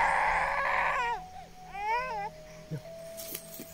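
A small child cries in rising, wavering wails with whimpering breaks, fairly close, over a low steady background hum.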